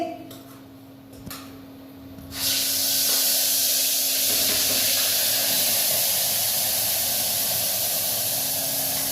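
Tomato-onion gravy hits hot oil with mustard seeds, cumin and asafoetida and erupts into a loud, steady spray-like sizzle that holds unbroken for several seconds after a quieter start.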